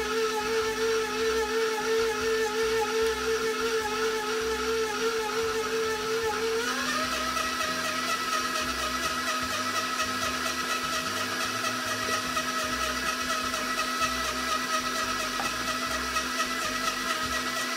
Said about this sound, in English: Now that the butter and sugar are well blended, I have decreased the speed of the mixer.